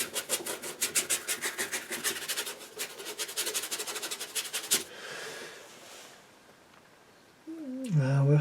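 Fine sandpaper rubbing an MDF board in quick, steady back-and-forth strokes for about five seconds, close and fairly loud. A soft hiss follows, and a brief voice is heard at the end.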